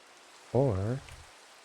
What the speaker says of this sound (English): It's raining. Possibly storming.